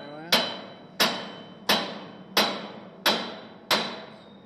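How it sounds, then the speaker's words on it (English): A hammer strikes a big, fat, stubby face chisel six times at a steady pace, about two-thirds of a second apart, to pry off a part. Each blow is a loud, close metallic bang with a ringing decay. "Big, fat, stubby face chisel, and it'll pry it off."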